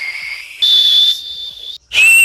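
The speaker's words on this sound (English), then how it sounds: "I keep trying to improve my fingerless whistle" A fingerless mouth whistle sounds as a series of loud, clear sustained tones, shifting pitch between held notes with a brief break before a final strong note.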